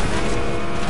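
A car drives in the Fortnite video game, a dense, steady engine drone that fills the whole second at constant loudness with no speech.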